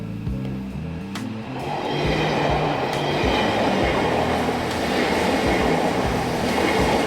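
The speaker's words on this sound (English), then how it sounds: "A train? I've never seen those before." A train rolls past close by somewhere in Japan, a loud rushing roar that builds within the first two seconds and holds steady with faint rhythmic clatter.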